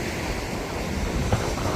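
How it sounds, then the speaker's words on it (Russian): Rough sea waves break on the shore under a southerly wind, making a continuous close, broadband wash with wind buffeting the microphone. "Море такое вообще взволнованное, ветер дует с юга."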